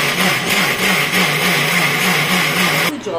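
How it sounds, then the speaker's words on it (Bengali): A mixer grinder whirring steadily as it blends raw mango with sugar, loud and close with a slightly wavering pitch, running continuously before cutting off abruptly near the end. "এটা একবারে দিয়ে আমি মিক্সি করব।"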